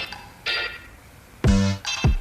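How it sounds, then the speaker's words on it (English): A phone ringtone plays loudly and close, a short electronic melody of sharp tonal notes in a kitchen where pour-over coffee is being made. "Your phone's ringing."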